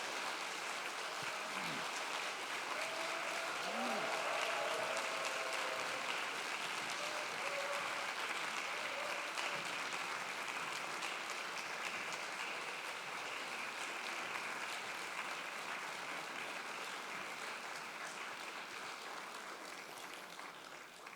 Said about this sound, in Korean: 소울 프로젝트 콰이어를 뜨거운 박수로 환영해 주시면 감사하겠습니다.